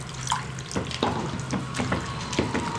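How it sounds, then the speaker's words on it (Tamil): Water pouring and splashing into a pot of mutton varuval with chopped tomatoes, a steady close trickle with a few brief splashy bursts and no talking. "கொஞ்சமாக தண்ணி கொஞ்சம் எக்ஸ்ட்ரா ஊற்றுறேன்"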